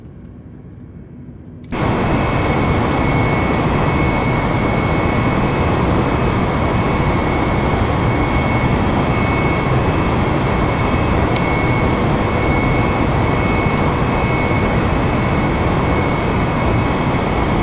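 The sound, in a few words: jet engines at takeoff thrust, Microsoft Flight Simulator video game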